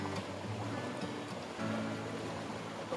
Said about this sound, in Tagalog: Yan, tubig yan mga bok, oh.